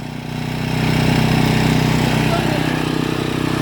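A small motor tiller's engine runs close and loud, its rapid rattling putter climbing slightly as it is given a bit of throttle, then holding steady.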